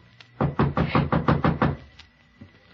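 Knocking on a door in a 1950 old-time radio mystery drama: eight sharp, evenly spaced raps in quick succession, close and clear, then a faint shuffle.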